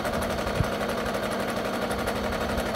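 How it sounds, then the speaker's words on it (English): Sewing machine running steadily around the edge of a fabric gift, a close, even mechanical chatter with no pauses. "I am sewing around, and what I'm going to do is I'm going to leave a portion open"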